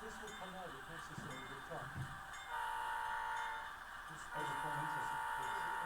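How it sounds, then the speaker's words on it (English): An HO scale AC4400CW model locomotive sounds its horn in two sustained multi-tone blasts, the second starting after a brief gap. Someone talks over the start. "I'm going to try and make that sound more like a Canadian horn."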